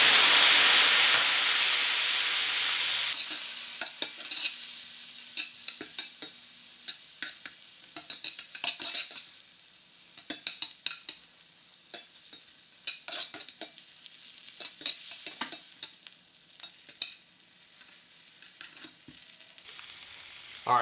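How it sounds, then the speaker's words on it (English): Wild duck livers sear in a pan after a splash of cooking brandy: a loud burst of hissing steam at first, then a steady close sizzle broken by sharp pops and scraping turns, with no talking. "we're just gonna give them a quick sear on both sides"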